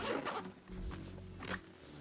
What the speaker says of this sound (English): We've got a zipper that opens up like this.